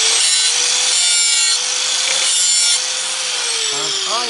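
A sanding disc grinds against a log axe blade, giving a steady, loud, continuous abrasive rasp that dips and returns in pitch as the disc is moved across the edge a few times, with no talking.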